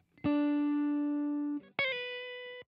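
Clean Stratocaster guitar run through a Guitar Rig reverb cabinet impulse response: one long sustained note rings out for over a second, then a second bright note follows, alone with no talk.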